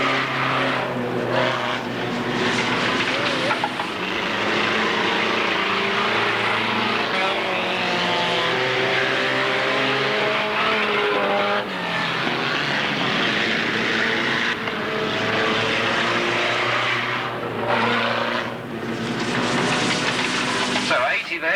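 Stock cars at an Alwalton race meeting roar past on the track, a dense continuous engine din that rises and falls as the pack passes, heard from trackside with a commentator talking over it.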